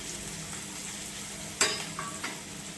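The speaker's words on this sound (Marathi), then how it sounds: "मोहरी आपली तडतडली आहे, त्याच्यामध्ये आपण कांदा घालून घेऊया" Mustard seeds crackle in hot oil with a steady sizzle, and chopped onion is added with a sudden louder burst followed by two smaller stirring knocks.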